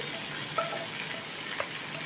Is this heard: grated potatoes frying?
yes